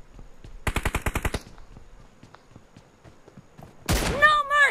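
Automatic gunfire in the mobile battle royale game PUBG Mobile, a rapid burst of about ten close shots, then quiet ambience with faint footsteps, and a voice speaking at the end.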